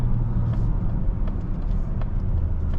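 A 2025 Mazda CX-70 PHEV Premium Plus pulls away from a stop, heard from inside the cabin as a steady low rumble of road and drivetrain noise with no talking.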